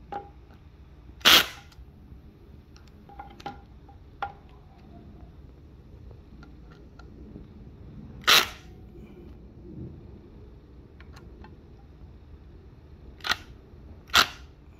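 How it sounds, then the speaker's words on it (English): Work on a Yume M11H electric scooter, with sharp metallic clicks and snaps from tightening its bolts, heard as isolated ticks spaced a few seconds apart over a quiet background. "just going through and making sure these are all tightened up."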